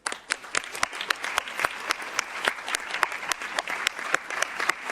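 Applause from delegates at a European Economic and Social Committee plenary session in a large assembly hall, a few seconds of brisk, moderately loud clapping with distinct individual claps standing out.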